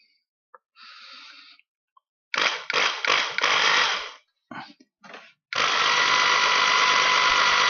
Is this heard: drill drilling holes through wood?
yes